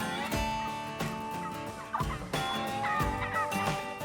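A wild turkey gobbles in autumn New England, its rapid, rattling gobbles coming in repeated bursts over a busy, full background.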